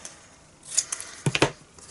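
Scissors snip through paper to trim a fishtail banner end for a stamped birthday card, a few quick crisp cuts close by, with a short cluster of sharp snips near the end.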